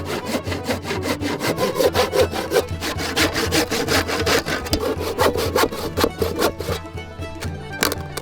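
A hand saw cuts through wood along marked lines in quick, regular back-and-forth strokes, close and rasping, continuing steadily without pause.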